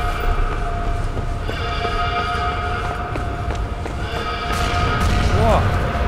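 A train rumbles and clanks in the World War II shooter game Sniper Elite V2, a loud continuous rolling din with metallic tones, heard under someone talking.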